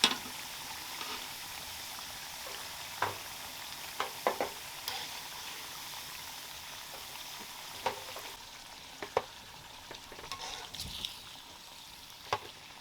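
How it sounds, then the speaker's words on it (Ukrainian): Potato pieces fry in a pan with a steady, quiet sizzle, broken by occasional clicks and light scrapes as they are moved about. "Перша частина картоплі обсмажилася, знімаю її."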